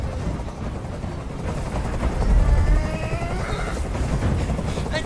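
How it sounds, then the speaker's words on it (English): Helicopter hovering in Detroit: Become Human, a steady rumbling rotor drone with low thumping and sharp bursts layered over it, loud and continuous throughout. "Tell that helicopter to get out of here!"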